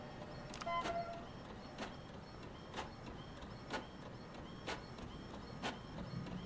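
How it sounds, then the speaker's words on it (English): A printer runs in the video game The Mortuary Assistant, a quiet mechanical whir broken by evenly spaced clicks and ticks about once a second, low in level and with no one talking over it. "it's the printer"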